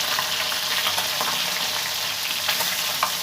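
Fish with tomato frying in a pan while being stirred, a steady close sizzle with small scraping accents and no talk.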